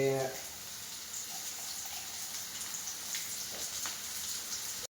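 Cumin and mustard seeds fry in hot oil with a steady, close sizzle and scattered popping crackles, holding evenly throughout.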